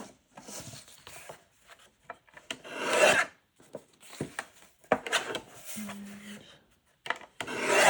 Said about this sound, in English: this book page has a little angled piece on it, so I'm just going to cut that off